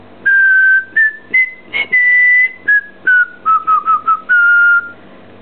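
An eclectus parrot whistles a tune indoors, a loud, close series of about a dozen clear tonal notes, some held and some short, with pitch stepping up and then down.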